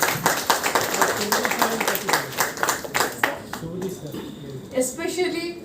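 A room full of people at a university faculty development programme's closing session claps in a sustained round of applause, with a voice speaking over it as the clapping fades toward the end.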